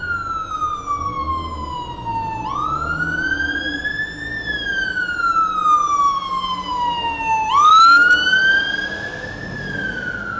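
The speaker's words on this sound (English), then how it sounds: "Oh, fire engine." A fire engine siren wails through a London street, its rising and falling tone sweeping loud and close as it passes, with traffic rumbling underneath.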